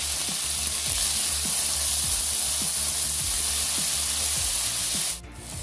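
Tomatoes and ginger garlic paste fry steadily in a pan for a chicken parotta, a dense continuous sizzle with periodic stirring scrapes, alone and without talk, briefly dipping near the end.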